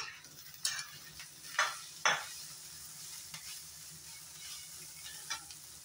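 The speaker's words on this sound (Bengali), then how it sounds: "পেঁয়াজটা সুন্দর করে ভেজে নিয়েছি।" Onions browning in a pan: a soft, low sizzle broken by several brief, bright spatula scrapes and clinks against the pan, close and uneven in rhythm.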